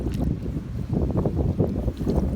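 Gusty wind buffets the microphone beside a small river where someone is float fishing, a low steady rumble throughout with faint water movement underneath and no talking.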